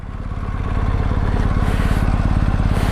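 A BMW R1250GS Rallye boxer engine idles steadily at close range, a loud, even low rumble with a fast regular pulse that holds without a break.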